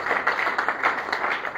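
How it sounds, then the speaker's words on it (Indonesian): A church congregation applauds, quick steady hand claps in a brisk rhythm, close and fairly loud, with no talking over them. "Beri tepuk tangan terbaik buat Tuhan."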